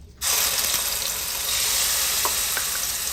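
A pureed mixture hits hot oil in a pan with cardamom pods and cinnamon stick, bursting into a loud, steady sizzle after a brief quiet start and holding without pause, with a few faint clinks.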